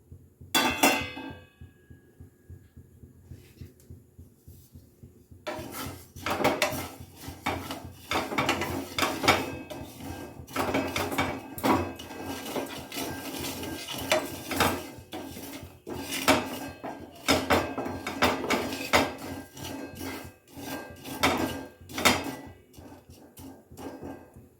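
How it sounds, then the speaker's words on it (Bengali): Mustard, black cumin, cumin, fennel and radhuni seeds dry-roasting in a pan, heard as close clinks and scrapes of a utensil against metal with rattling seeds, irregular bursts after a quiet start, no talking. "এগুলো অল্প কাঠখোলায় ভেজে একটু"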